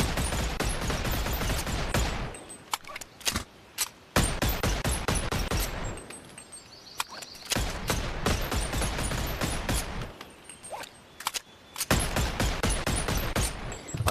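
Video game gun fires in rapid bursts of sharp, loud shots, clustered volleys broken by brief quiet gaps, dense automatic fire dominating most of the stretch.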